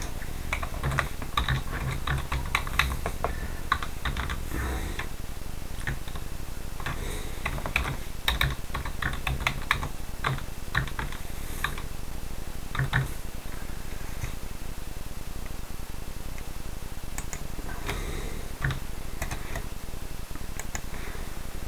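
A password being typed on a computer keyboard, with irregular bursts of clicky keystrokes close by, pausing between runs of keys and trailing off toward the end.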